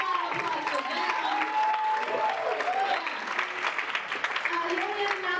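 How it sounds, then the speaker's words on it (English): A live-show audience claps for the film crew, a moderate round of applause running under someone speaking over it. "Big round of applause for them."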